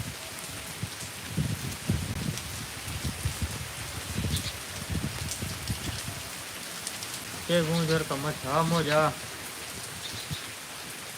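Heavy rain falls steadily on a Gujarat village in monsoon, a close continuous patter with a few thumping drops, and a voice speaks briefly near the end.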